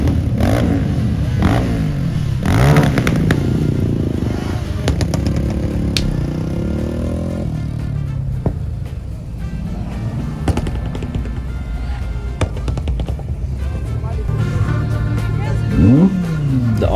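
ATV revving and popping with bursts of fire at a busy car meet with thousands of people, its engine rising and falling over a constant crowd and traffic din, with voices talking throughout.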